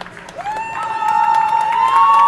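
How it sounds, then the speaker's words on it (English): Crowd cheers and applauds at a U13 AAA girls' hockey game at Centre Glace Intact in Quebec City, rising steadily and staying loud after a goal, with a sustained whistle-like tone carried through the noise. "The crowd is going wild here at the Centre Glace Intact to Quebec City."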